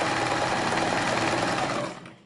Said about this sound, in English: Start sewing it like this.